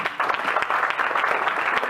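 An audience at a talk show gives a brief, steady round of applause, a dense spread of clapping hands from a roomful of people lasting about two seconds.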